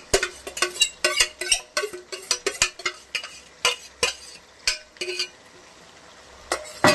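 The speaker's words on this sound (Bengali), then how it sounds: "এবার মাংসটা কড়ার মধ্যে ছেড়ে দিচ্ছি" Marinated mutton going into a hot kadai and being worked with a metal spoon: a rapid series of sharp clanks and scrapes against the pan, a brief pause, then a few more strikes, with a faint sizzle beneath.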